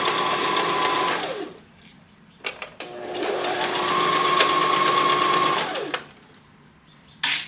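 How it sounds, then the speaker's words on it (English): Domestic sewing machine running a zigzag stitch in two steady whirring bursts, the motor ramping up and winding down each time, with short pauses between and a brief restart at the end. "So I'm gonna start on the sewing machine. I'm actually gonna do a zigzag stitch."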